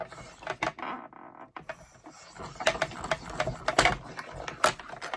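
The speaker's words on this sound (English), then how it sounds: "Run that through your Mini cut and emboss" A Stampin' Up Mini Cut and Emboss machine cranks a card through its rollers for a winter flap card, giving a run of close, irregular clicking and ratcheting taps with brief pauses, no voices.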